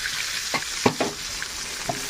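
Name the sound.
onions frying in a pan with chicken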